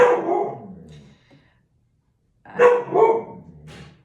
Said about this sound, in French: Faut toujours que le chien la ramène.